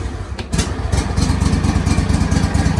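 A small mower engine with the throttle up and choke out sputters for a moment, then catches and runs with a steady, close, loud chugging beat.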